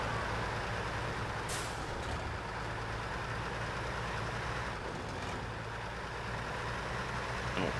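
A Ford CLT9000 BHF heavy-duty off-road truck in SnowRunner drones with a steady, loud engine rumble and broad mechanical noise throughout, with a short hiss near the start.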